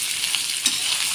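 Chopped potatoes hit a pan of onions fried until reddish-brown, giving a steady, close hiss of frying oil with faint stirring clicks and no voices.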